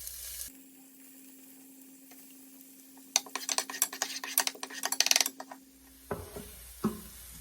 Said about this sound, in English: As you can see, my onion is turning golden brown.